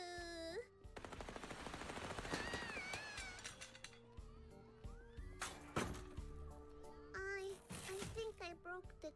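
Gunfire with real bullets in the horror adventure game Little Misfortune, dense rapid shots in a burst under game music and a voice, followed by a few sharp crashing impacts.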